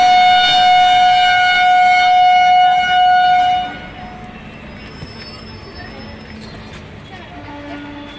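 A train passing with a loud, steady high-pitched squeal of wheels or a siren-like tone for about three and a half seconds, then cutting off to quieter background rumble and faint voices.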